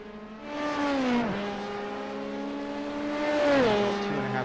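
LMP prototype race cars in a racing video game roar past, engine pitch climbing steadily then dropping sharply on downshifts twice, loud and close throughout.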